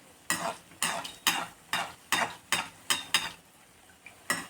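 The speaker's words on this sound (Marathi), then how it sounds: "आपल्याला थोडंसं गोल्डन ब्राऊन कलरला हे तळून घेऊयात आपण." Rice bondas deep-fry in oil while a utensil stirs and scrapes in a regular rhythm, about nine crisp strokes each trailing into a soft frying hiss.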